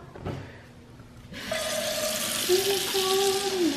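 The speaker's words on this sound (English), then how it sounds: "Put some water in it." Water gushes steadily from a tap into a metal pot for macaroni, the pitch rising as it fills, with a clatter just before the flow starts.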